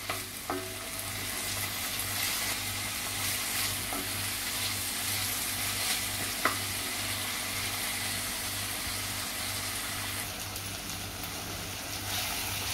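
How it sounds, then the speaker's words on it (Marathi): Onion and tomato fry in a pan for egg bhurji, giving a steady close sizzle with occasional light stirring clicks throughout. "आता आपण टोमॅटो घालूया। टोमॅटो सुद्धा आपण मऊ शिजवून घ्यायचा आहे।"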